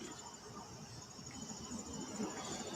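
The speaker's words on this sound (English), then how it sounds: "You're going to have to tell the birds and all those crickets to be quiet." Crickets chirp outdoors at night in a dense, steady high trill that holds throughout, faint and distant, with a low murmur of background noise underneath.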